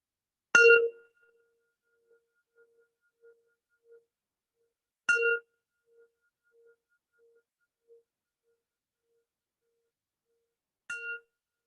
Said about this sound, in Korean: 명상 벨이 울리면 같이 숨을 쉬시겠습니다.